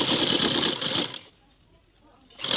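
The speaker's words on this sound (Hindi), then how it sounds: "अब हमने उधर से दोनों को पकड़ लेना है और बराबर करके तो फिर हमने ये सिलाई लगानी है।" A sewing machine stitches trouser seams in a close, steady whirring burst, stops for about a second of near silence, then starts up again.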